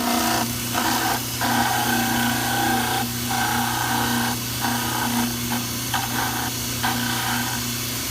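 A powered trimmer grinds excess off a dental plaster cast, a steady motor hum broken by repeated short rasping bursts as the cast is pressed to the wheel.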